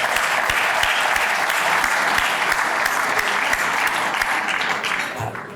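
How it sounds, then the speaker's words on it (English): A dinner audience at the Capital Link Invest in Greece Forum in 2023 gives sustained applause, a dense, loud clapping that fades out at the end. "Let's give them a round of applause."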